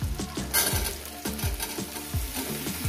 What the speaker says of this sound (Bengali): আরও আমি এটাকে 6-7 মিনিট ধরে এটাকে আমি ভাজবো